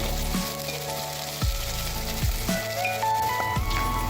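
Mustard seeds, cumin, onion pieces, green chillies and curry leaves frying in hot oil, a steady close sizzle with crackling pops throughout.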